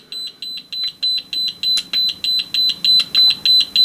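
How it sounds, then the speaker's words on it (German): A Thermaltake Pacific TF2 flow and temperature display sounds its no-flow alarm: loud, even electronic beeps repeat quickly and steadily, about four per second, alone and close by. "Schon warnt er, weil wir keinen Durchfluss haben. Ja, da haben wir direkt schon diesen Alarm."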